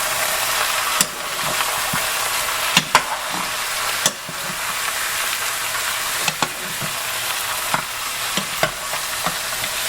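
Oxtails sizzling steadily in a hot pot for a Jamaican dish, with sharp scrapes and knocks of a spoon stirring against the pot at irregular moments.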